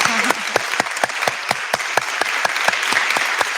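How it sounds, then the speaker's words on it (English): An audience at a Hispanic Heritage Month conversation event gives a round of applause. Distinct, close claps ring out in a steady, evenly spaced rhythm, sounding sparse rather than a dense roar. "Can we give her a round of applause?"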